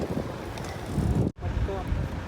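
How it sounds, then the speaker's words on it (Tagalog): Wind rushes and buffets loudly against the microphone throughout a bicycle ride in Nuvali, with a brief sudden drop-out partway through. "Yung hangin naman is masarap yung hampas"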